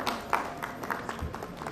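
Scattered, sparse claps from a small audience at a sugar, ethanol and bio-energy conference session, soft and somewhat distant, with no voices over them.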